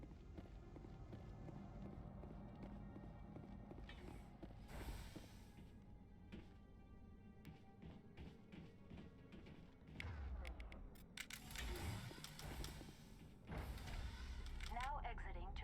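A door in the video game Mass Effect opens with mechanical whirs, creaks and thuds, set among quiet game ambience and other clanking effects.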